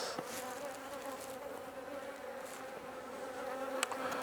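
Honey bees hum in a steady, dense drone during an inspection of a Langstroth hive, close and continuous, with a few faint bumps and knocks from handling the frames.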